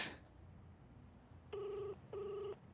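Two bursts of a telephone ring sound in a quiet room, each a steady electronic trill lasting about half a second, separated by a short pause.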